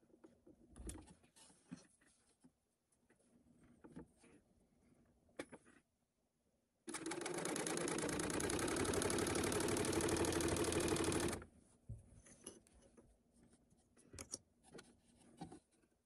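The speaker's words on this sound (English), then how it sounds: "I'm going to use my serger and sew both of these up" A serger overlocks shoulder seams on a garment, a dense, loud, even machine run of roughly four and a half seconds that stops abruptly, with quiet handling and rustling of fabric before and after.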